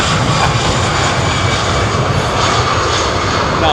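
A jet airliner engine at London Heathrow Airport, a loud, continuous roar that holds steady throughout.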